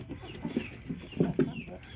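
Chickens being fed chayote cluck softly in a short run of quick, close, low calls, several bursts spaced irregularly over a couple of seconds, fairly faint.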